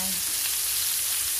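Short ribs sear in a hot pan with a steady, close, dense sizzle that holds throughout as the meat is turned.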